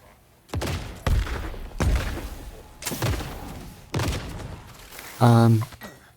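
Several loud gunshots ring out in the game Nightingale, spaced about a second apart, each a sharp boom with a decaying tail, followed by a brief harsh electronic buzz; no one talks.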